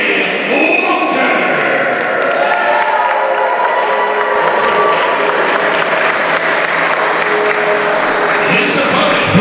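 A wrestling crowd at an independent show in Roanoke, Virginia claps loudly and steadily throughout, a dense wash of applause with scattered thuds and cheers.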